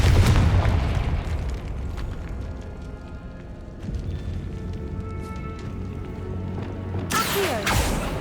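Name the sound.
Confringo blasting spell explosion, from video game Hogwarts Legacy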